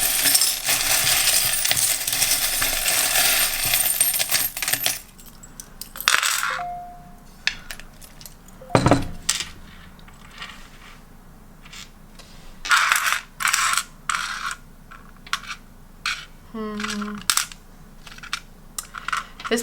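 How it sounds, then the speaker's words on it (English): Metal charms jingling and clinking together for a tarot reading, with a rushing shake at first, then scattered close clinks and small metallic rattles, bright and sporadic without speech. "Let's go ahead and get you some charms."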